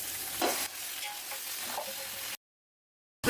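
Mutton frying in hot oil with ginger-garlic paste gives a close, steady sizzle with soft stirring scrapes, then cuts to silence before a brief burst returns.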